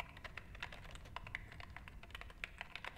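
Rapid typing on a computer keyboard in the video game The Evil Within, a quiet, steady stream of light key clicks with no speech.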